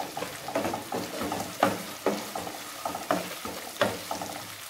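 Onions and curry leaves sizzle in a hot pan, with repeated stirring scrapes every second or so, close by and with no talking.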